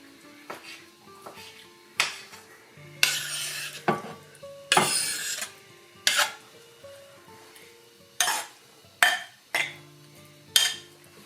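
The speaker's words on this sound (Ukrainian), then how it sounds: "Поєднуються всі продукти між собою, заправляється все майонезом" A spoon scrapes and clinks against a bowl in repeated strokes as diced salad ingredients are mixed with mayonnaise, close and fairly loud.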